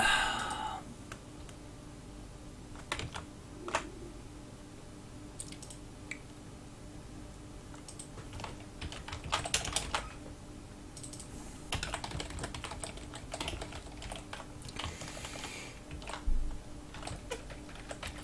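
Typing on a computer keyboard while playing FortressCraft, heard as scattered, uneven keystroke clicks and short bursts of taps, quiet and close against a low background hum, with no speech.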